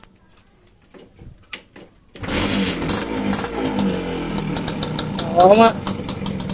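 A Suzuki X4 motorcycle engine starts after a quiet pause with a few clicks, then idles steadily and fairly close with a brief revving swell near the end; someone speaks briefly over it.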